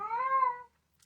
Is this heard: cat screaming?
yes